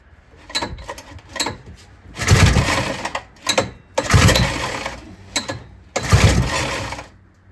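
An abandoned 6x6 ATV, left in neutral, is cranked repeatedly. Short mechanical bursts alternate with longer, louder turning-over attempts in an uneven start-stop rhythm, close up.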